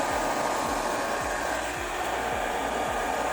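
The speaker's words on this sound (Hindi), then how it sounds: "कोई फ़ैन है इसके अंदर जो फ़ैन चल रहा है" The small internal fan of a battery-powered floating hover football whirs in a steady, airy hum, much like a hair dryer, with faint rhythmic pulses underneath. It runs alone at close range for a few seconds.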